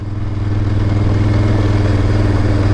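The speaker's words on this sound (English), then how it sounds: "I am riding it on a fully loaded 990 with all my camping gear and everything on it" A fully loaded KTM 990 motorcycle carrying camping gear rides along a gravel road, its engine droning steadily and loudly with a low, pulsing rumble that builds slightly at the start, alone without speech.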